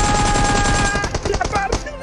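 Rapid bursts of automatic gunfire ring out in a PUBG match on the Erangel map, dense and loud at first, then breaking into scattered shots under excited commentary.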